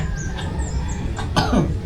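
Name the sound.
child coughing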